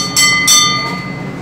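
A small engine telegraph bell aboard a tanker ship rings twice in quick succession, each strike bright and metallic with a short, lingering ring.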